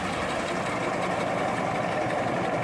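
A farm tractor fitted with a front-mounted machine runs steadily, a loud continuous engine drone with no breaks, close and alone.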